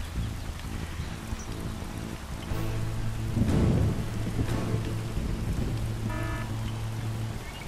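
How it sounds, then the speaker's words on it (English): A thunderstorm lightning attack in Command & Conquer Zero Hour: steady rain hiss under a low rumbling thunder roll that swells near the middle, followed by a short electronic game tone near the end. "Cloudy, but a chance of lightning."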